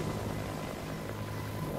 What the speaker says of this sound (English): ये तो Russian helicopter लग रहे हैं मुझे